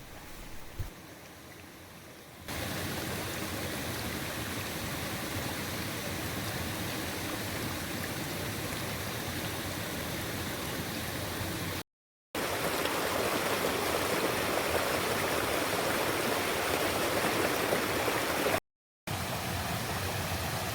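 A river stream flows in a steady, broadband rush that runs continuously at an even level, with a quieter stretch at the very start and two brief silent gaps.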